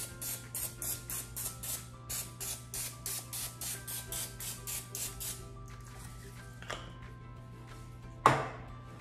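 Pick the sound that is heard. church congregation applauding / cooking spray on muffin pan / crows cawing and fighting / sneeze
cooking spray on muffin pan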